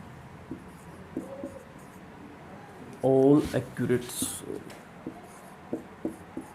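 Marker or chalk scratches on a classroom board during a physics lesson, a short cluster of squeaky strokes mid-clip, with a teacher's voice talking throughout.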